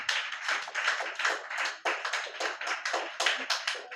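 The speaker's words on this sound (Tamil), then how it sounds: "ஆயா மட்டும்தான் கையை தட்டுறாங்க." Hands clapping in a dense, continuous round of applause from a gathering at a Tamil church New Year service, steady and fairly loud with no talk over it.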